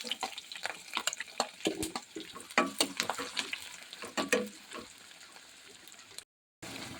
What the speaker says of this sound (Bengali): এবার পেঁয়াজগুলো দিয়ে দেবেন